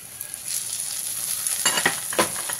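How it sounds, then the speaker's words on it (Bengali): Spice masala with salt, cumin powder, coriander powder and tomato sizzles steadily in a pan, and a few short scraping stirs come late, close by, with no voices. "দিয়ে এবারে ভালো করে কষিয়ে নিই।"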